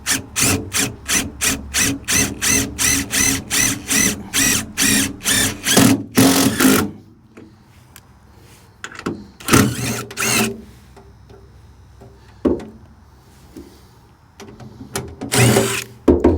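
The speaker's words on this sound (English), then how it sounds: "So I can attempt to run a self-tapper through there" A cordless drill drives a self-tapping screw into the thin sheet metal of a dump trailer, giving a rapid pulsing whir for several seconds that stops abruptly, followed by a few short, loud bursts of drilling separated by quiet.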